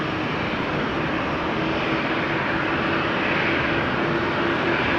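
A steady, loud roar of a fixed-wing airliner taking off on a runway at rainy Amsterdam Schiphol Airport, its engine noise broad and continuous throughout without a break.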